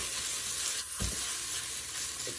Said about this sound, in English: I like to add my tomato paste while I'm cooking the onions